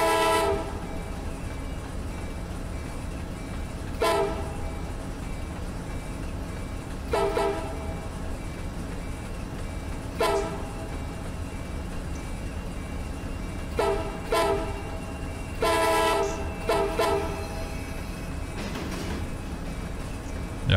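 Amtrak Auto Train hauled by big power in Run 8 Train Simulator on the A-Line near DeLand, Florida, with a steady rumble of rolling cars and brief horn toots at irregular intervals, no talking.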